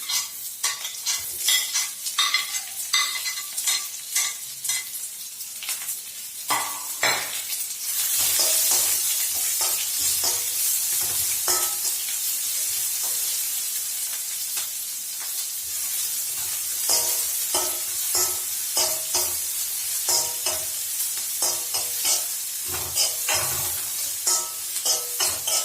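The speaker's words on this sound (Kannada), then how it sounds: "ಇವಾಗ ಈರುಳ್ಳಿ ಹಾಕೊಂತ ಇದ್ದೀನಿ." Onions and green chillies frying in a pan for a simple okra fry, with a loud constant sizzle and repeated rhythmic stirring scrapes and taps of a spatula throughout.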